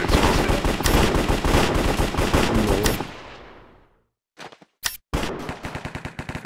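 Rapid automatic gunfire in a video game shooter, loud sustained bursts that stop and fade into near silence, then a few sharp single shots before the firing resumes.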